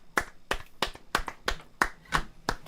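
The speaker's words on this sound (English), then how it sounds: "I made it just in time to clap. Good clapping." Steady rhythmic clapping at an open-mic music night, roughly eight sharp, evenly spaced claps from a small group, quiet and close with no talk over it.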